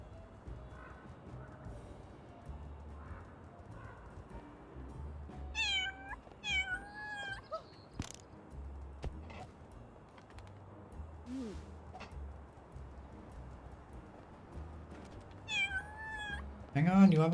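Cartoon cat meows from the video game Little Kitty, Big City, several short rising and falling calls in small bursts over a low ambient game backdrop, with a person talking at times.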